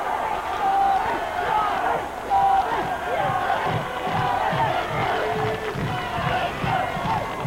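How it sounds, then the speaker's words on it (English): A boxing crowd at a 1998 England fight roars and cheers steadily in a hall, a dense, continuous wall of shouting voices with rhythmic surges, loud and close. "The crowd getting behind these two fighters now"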